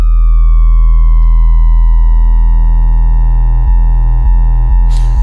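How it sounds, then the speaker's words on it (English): A Dominion 1 synthesizer holds a bright, sustained tone with several stacked filter modulations, the pitch gliding slowly down before a pulsing rhythm and a brief burst of hiss appear near the end, loud and alone. "I just want to show you the sonic capabilities of this synthesizer"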